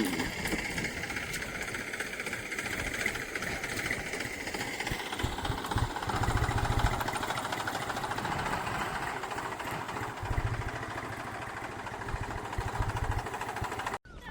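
A tractor engine idles steadily during maize sowing in a farm field near Nashik, with a constant low rumble and rattling knock, running without pause until it cuts off at the end.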